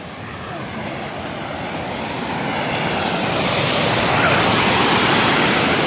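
Floodwater roars steadily over a village lake weir after continuous heavy rain, a dense continuous rushing that swells slightly louder toward the end, with no other sounds.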